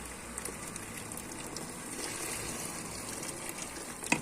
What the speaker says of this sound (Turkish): Şimdi içine sıcak su koyalım.